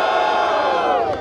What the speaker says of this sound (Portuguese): Barulho para cima do Refel